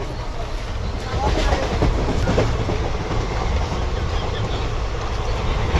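A train rumbles steadily along the rails, a continuous loud interior roar with faint chatter of voices underneath.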